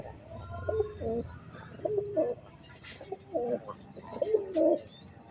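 Budapest racing pigeons coo in a series of soft, rounded, repeated calls, about five bouts close by, with faint higher chirps from other birds in the background.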